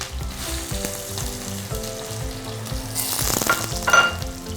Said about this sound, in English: We can even crackle and add the onions to that.